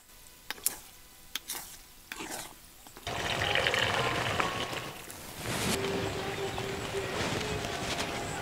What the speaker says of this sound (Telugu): మనం చికెన్ ఉడకబెట్టుకున్న నీళ్ళని కొద్దిగా పోసుకుంటూ మరీ లూజ్ కాకుండా గట్టిగా ఉండేటట్టుగానే మనకి నీళ్లు ఎంతవరకు పడతాయో అంతవరకే పోసుకోవాలన్నమాట.